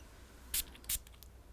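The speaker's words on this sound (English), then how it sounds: "let's go ahead and get a spray" Two quick hissing bursts of perfume spray, a short pause between them, against a quiet background.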